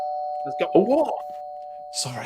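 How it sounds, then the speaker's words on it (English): A house doorbell rings at a Christmas party with a sustained chime tone under brief talk, followed by more voices and a short noise at the end. "That was a doorbell."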